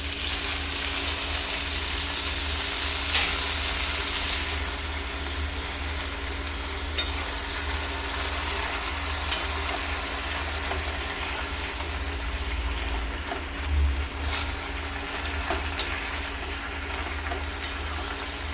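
Chopped spinach, fish head, potato and eggplant sizzle and fry in spiced oil in a pan for a Bengali rohu fish head curry, with a steady close hiss and occasional stirring clinks, without talk.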